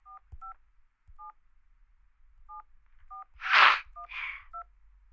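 Telephone keypad tones as a card number is typed into a phone during a radio show: short, sparse single beeps spaced unevenly, clear and isolated, with a brief burst of noisy handling sound near the end.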